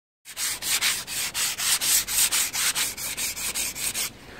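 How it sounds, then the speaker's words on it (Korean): Steady rhythmic back-and-forth rasping of sandpaper smoothing cut wooden pieces for a Fresnel lens frame, about a dozen strokes close up, with no voices. "사포로 한 번씩 밀어주는 걸 추천드립니다"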